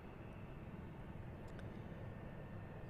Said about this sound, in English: that C-17 is coming out right here. So it'll be taxiing to the reef runway.